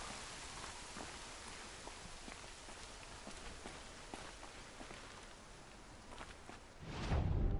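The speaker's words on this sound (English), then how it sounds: "Oh, it's raining." Steady rain falls in Horizon Zero Dawn, an even hiss of drops with scattered louder patters throughout, ending in a low rumbling swell.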